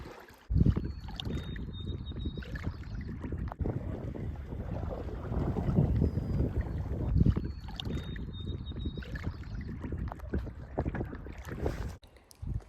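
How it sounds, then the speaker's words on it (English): A canoe is paddled across a lake in Algonquin Park's backcountry toward a portage, with repeated close water swishes and strokes under gusty wind noise on the microphone. "We are paddling up to our first portage"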